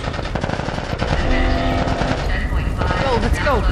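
Sustained, loud automatic gunfire aimed at Fireflies in The Last of Us Part I, a continuous rattling barrage with no pause, mixed with chaotic combat noise.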